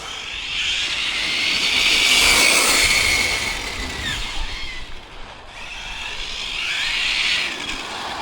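A Hobao TT2.0 RC truck drives continuously with a high electric motor whine that swells, fades and rises again, steady and fairly close, with no talking.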